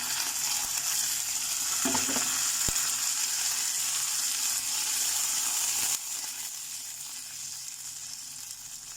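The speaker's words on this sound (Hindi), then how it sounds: "अब इसमें थोड़ा पानी ऐड कर देंगे कि मसाला हमारा जले नहीं" Masala with onion and ginger garlic paste fries in a pan, a soft continuous sizzle with a few stirring scrapes; a splash of water goes in and the hiss drops to a quieter bubbling.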